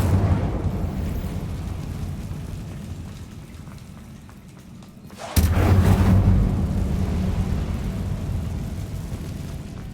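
An Incendio fire spell blast in the video game Hogwarts Legacy: after a low rumbling lull, a sudden sharp whoosh bursts out loud and close, followed by a sustained crackling, roaring hiss.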